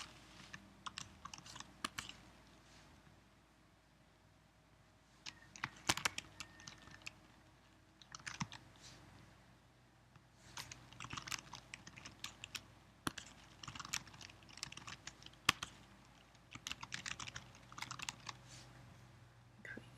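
Quiet typing on a computer keyboard while entering a password in system settings: irregular bursts of soft, close key clicks separated by short pauses, with no voices.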